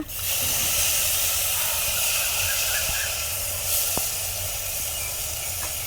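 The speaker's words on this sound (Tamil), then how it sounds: "நம்ம புளி தண்ணி ஊற்றிக்கலாம்ப்பா" Steady loud sizzling hiss of tamarind water poured into a hot clay pot of turkey berry curry, continuing evenly throughout with faint clinks.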